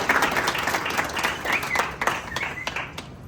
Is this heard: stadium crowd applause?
yes